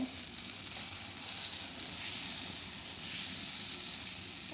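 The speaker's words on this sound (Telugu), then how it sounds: "ఉల్లిపాయ పచ్చిమిరకాయ వేసి దిబ్బరొట్టలాగా వేస్తున్నాను అనమాట" Steady, soft sizzle of dibba rotti batter mixed with onion and green chilli frying on a hot pan, an even hiss with no pauses and no one talking.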